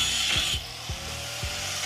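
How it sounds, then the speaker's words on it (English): A hand saw cuts through scrap pieces of wood in a few steady back-and-forth strokes, close and fairly loud, with no talking. "sawing off some scrap pieces of wood we had"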